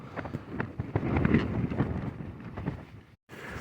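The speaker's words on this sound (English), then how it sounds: "You can hear that wind." Strong, cold wind buffets and roars against tent fabric close to the microphone in the morning, with gusty surges, then a brief silence before the rushing resumes.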